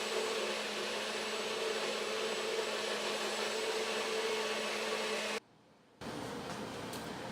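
Blender motor warming a butternut squash sauce, a steady whirring drone running for several seconds, pausing briefly, then starting up again at a similar level.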